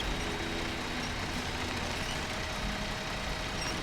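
Heavy truck engine labouring uphill in the SnowRunner video game, a steady, dense rumbling drone with a faint whine, continuous and unchanging throughout.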